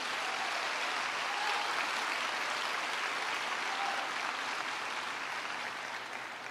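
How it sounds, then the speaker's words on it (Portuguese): A Sunday church congregation applauds, a steady, even wash of many hands clapping at a moderate distance, sounding fairly soft and holding without a break throughout. "e isso, aplauda mesmo."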